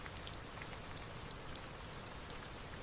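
Steady rain falls on an island forest, a continuous soft patter with scattered sharper drops, even and unbroken throughout with no voices.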